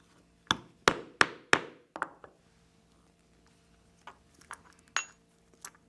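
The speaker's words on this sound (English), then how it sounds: "I will use a 1/8 inch punch. I will punch a hole through both thicknesses." A 1/8 inch leather punch is hammered through two layers of leather: four sharp, close metallic strikes in quick succession, then a pause and several lighter, scattered taps.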